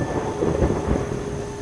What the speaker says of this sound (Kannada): ಸುರಿತಾ ಇದ್ದ ಮಳೆಗೆ